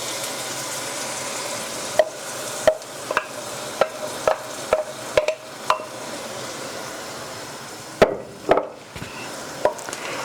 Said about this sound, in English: we're going to stir all this together and let it come to a good hot simmer